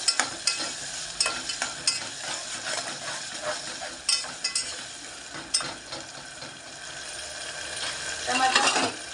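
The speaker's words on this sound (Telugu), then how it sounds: "టమాటా మగ్గనిద్దాం" Tomatoes cooking in a pan for a guru chikkudu curry with sesame, a steady sizzle with repeated stirring scrapes and clinks throughout, fairly close and rising slightly toward the end.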